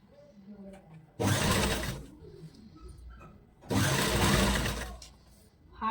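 Sewing machine stitching a fabric strip for a round cushion cover, running in two steady whirring bursts of about two seconds each, with quiet pauses and faint talk in between.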